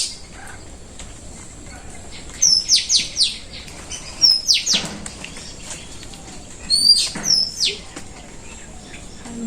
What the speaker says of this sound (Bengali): কি সুন্দর পাখি ডাক মারছে